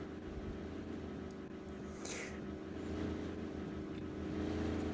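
Game vehicle engine in a student-made C++ video game, a steady low motor drone with a faint rising whine partway through, continuous and fairly loud, no talking.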